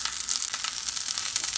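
Garlic sautéing in a pan, a steady close hiss of frying with faint crackle throughout, no voices.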